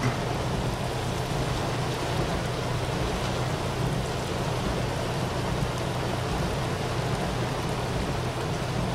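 Heavy rain pours steadily during a flood in southern Brazil, making a dense, even hiss of falling water that holds unchanged and fairly close throughout, with no voices.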